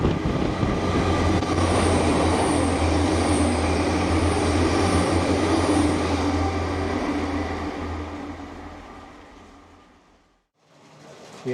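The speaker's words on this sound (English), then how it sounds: "train coming" A train rumbles past nearby at the Standedge Tunnels, a steady loud roar of wheels and engine that holds for several seconds, then fades away into near silence.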